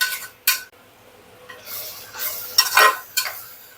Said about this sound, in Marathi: छान कांदा आपण दोन ते तीन मिनटं परतलाय व्यवस्थित असा तेलामध्ये